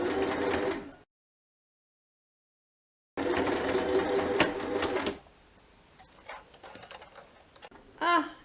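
A sewing machine re-stitches the hem of a jersey top, running in two loud, close, fast-pulsing bursts separated by silence, followed by quieter scattered clicks and handling noises.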